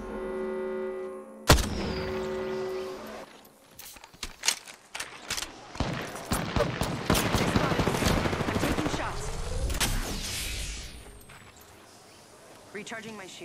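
Enemy gunfire in the battle royale game Apex Legends, a sharp blast followed by dense bursts of rapid shots and impacts, loud and close, with a player talking over the fighting.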